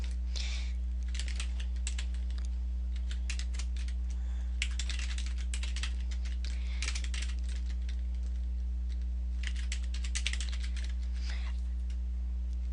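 Steady typing on a computer keyboard while entering a password for a new WordPress user, with quick bursts of close key clicks and short pauses over a constant low electrical hum.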